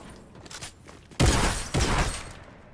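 Two loud bursts of video game gunfire from a powerful gun in a 1v1 match, the first heavier and the second just after it, preceded by quieter game noise.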